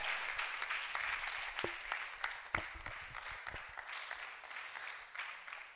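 A church congregation applauds at a gospel service, dense sustained clapping from many hands with a few sharper nearby claps standing out, fading slightly toward the end.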